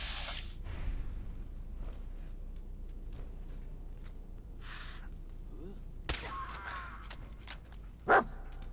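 A dog barks briefly in a Fallout 4 game scene, with sharp barks among gunfire-like bursts, game noise and some voices.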